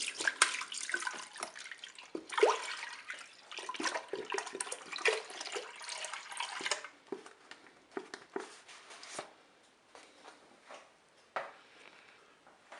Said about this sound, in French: On commence par verser le lait dans la cuve.